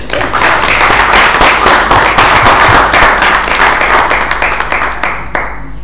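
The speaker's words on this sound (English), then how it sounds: "Would everyone give another round of applause for him?" An audience applauds loudly and continuously, dense clapping that tapers slightly toward the end.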